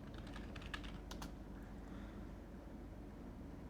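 Fast, light keystrokes on a computer keyboard clatter in a quick irregular run during the first half, then give way to a low steady room hum with no voices.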